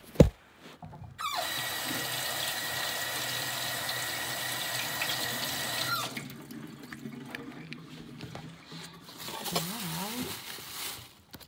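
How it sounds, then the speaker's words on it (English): Tap water runs steadily into a kitchen sink for several seconds while something is rinsed, then the flow is cut off, leaving quieter drips and handling noises. "Gonna rinse."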